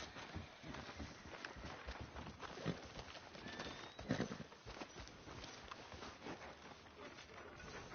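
Horse hooves clip-clop at a steady walking pace in Red Dead Redemption 2, a continuous, moderately close patter with birdsong and outdoor ambience around it.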